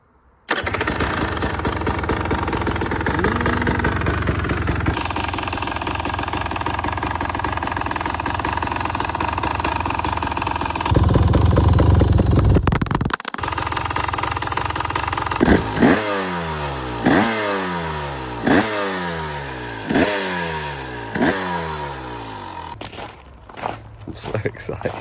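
Newly bought motorcycle starting up close by, settling into a rough, loud idle, then revved repeatedly in rising and falling surges before cutting off near the end.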